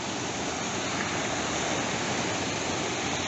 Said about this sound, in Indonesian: Aliran sungai sangat deras